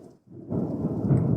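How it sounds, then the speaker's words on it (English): Thunder rumbling through a rainstorm outdoors, a loud, broad low roar that swells after a brief lull and holds steady to the end, with no voices. "Oh, it's lightning right now outside."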